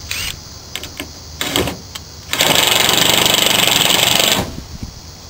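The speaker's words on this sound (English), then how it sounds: "Now you want to drive the screws into the holes." A power driver sends screws into a rack plate on a truck tailgate, first in a few short whirring bursts, then one sustained two-second buzzing drive, close and fairly loud.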